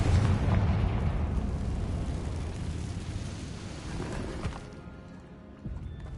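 The Confringo blasting spell in a Harry Potter video game erupts in a loud, rumbling explosion that fills the start and slowly decays into a lingering roar of debris, with no talk.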